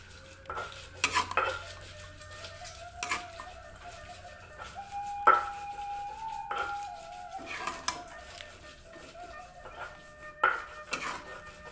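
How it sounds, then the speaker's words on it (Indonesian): Jengkol being stirred into green chili in a pan with the heat turned off, sounding as intermittent spatula scrapes and clinks against the pan with quiet gaps between. "jengkolnya kita masukin ke dalam cabai ya, biar semakin empuk. Kita aduk ya."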